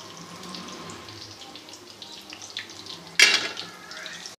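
Small dahi phulkiyan pakoris frying in hot oil, a soft, steady sizzle throughout, then a sudden louder splash and crackle near the end as they are stirred or lifted out.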